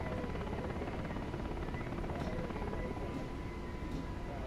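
A UH-60L helicopter in the DCS flight simulator, a continuous dense rotor and turbine drone with steady thumping, loud and unbroken throughout.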